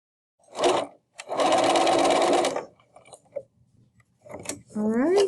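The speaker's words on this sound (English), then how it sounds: "Going to sew down this side of the bag." A sewing machine stitches down the side of a tote bag, running in a short burst and then a longer steady buzzing run up close, followed by soft handling noises and a voice speaking at the end.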